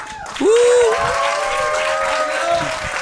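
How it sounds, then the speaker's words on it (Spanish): Loud ovation from a live comedy-show audience, dense clapping swelling in and holding at full strength, with a whistle-like tone and voices mixed in. "Yo os pido desde aquí una ovación fuerte para reforzar esta idea"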